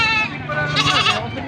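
Goat bleating at a goat farm livestock sale, one loud nearby wavering bleat lasting over a second, with faint voices around it.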